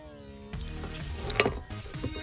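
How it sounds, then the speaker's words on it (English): A 3/8 drive ratchet turning a 15/16 socket on a PCV valve of a Nissan 3.5 engine, giving a close, quiet run of small clicking pawl ticks with one sharper metallic snap partway through. "15/16 socket. 3/8 drive ratchet"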